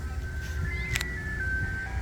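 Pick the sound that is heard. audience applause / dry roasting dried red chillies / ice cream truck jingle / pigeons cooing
ice cream truck jingle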